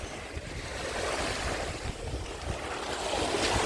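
Waves roll onto the Odesa seashore between Arkadia and Lanzheron in a steady broadband wash, with wind rumbling on the microphone, close and continuous.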